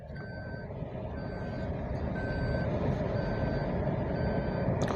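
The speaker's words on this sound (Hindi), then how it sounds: "मैं गाड़ी को अभी स्टॉप किया, गाड़ी का अभी रिवर्स ऑन किया।" A 2022 Maruti Baleno with reverse gear engaged gives off steady, evenly spaced reversing beeps, about one each second, over a constant low rumble.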